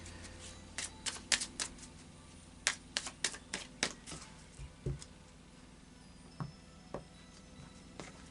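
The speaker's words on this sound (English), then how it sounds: "I'll do a final shuffle of the Oracle of Visions for you now." Oracle of Visions oracle cards being shuffled by hand: a series of close, crisp riffles and taps in irregular bursts, thinning out into occasional soft clicks.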